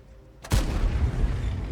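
A War Thunder Rheinmetall Skorpion G fires its tank gun once, a sudden loud boom that rolls into a long rumbling tail under the following quiet.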